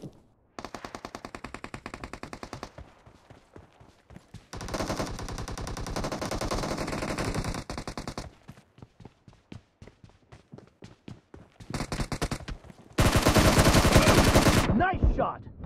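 Automatic gunfire rattles in the mobile game PUBG Mobile, coming in several long, loud, rapid bursts separated by brief gaps and quieter single shots, with the heaviest burst near the end.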